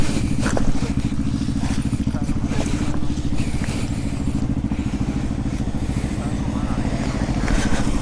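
A two-wheeler motorcycle riding on a road, its engine droning steadily with a constant low rumble and rattling clatter throughout, close by, while people talk over it.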